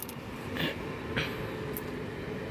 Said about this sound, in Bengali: ছাদ থেকে দেখা যাচ্ছে ট্রেন